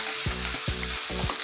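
Reddened onions fry with ginger-garlic paste and salt while a spatula stirs, producing about four rhythmic scraping strokes over a loud, continuous close-up sizzle.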